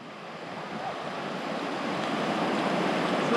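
Atlantic Ocean surf on the ocean side of Cumberland Island, a steady broadband wash of breaking waves mixed with breezy wind noise, continuous and fairly loud with no voices.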